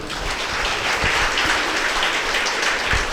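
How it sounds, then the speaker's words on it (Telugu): An audience at a meditation gathering in Pithapuram claps together, a dense, steady applause that stays strong throughout with no voices over it. "గట్టిగా చప్పట్లు కొడదాం."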